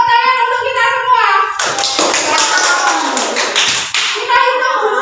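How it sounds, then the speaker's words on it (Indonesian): Classroom of fifth-grade pupils clapping hands together in a brief, dense burst of applause lasting about two and a half seconds, set between stretches of a teacher's voice. "Sekarang tepuk tangan untuk kita semua."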